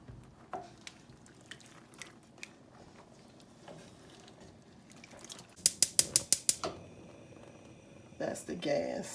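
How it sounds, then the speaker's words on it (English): Home gas stove burner lighting in a kitchen while navy bean soup with ham is being made: a quick run of about six sharp clicking ticks from the igniter, with quiet kitchen noise and a voice speaking around it. "That's the gas ignition"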